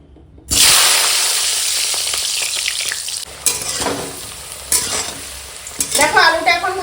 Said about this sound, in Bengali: চলো এখন আলুটা ভেজে নেবো